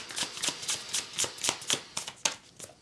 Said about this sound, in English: I will shuffle some more cards.